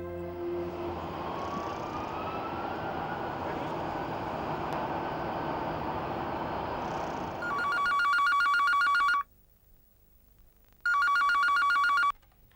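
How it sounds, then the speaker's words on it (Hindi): A telephone rings loudly in two long bursts with a pause between, following a stretch of dense background noise, in a domestic drama scene. "पहले शारन को तो फोन कीजिए"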